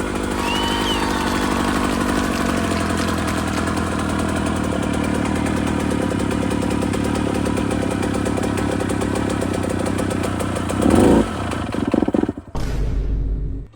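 A KTM SX125 two-stroke dirt bike engine runs loudly and roughly up close for several seconds, then sputters and cuts out near the end.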